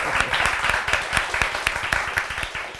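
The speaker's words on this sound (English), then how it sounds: "Can we give a round of applause?" Small audience applause at a talk, a few seconds of brisk, close clapping from a modest group with distinct individual claps.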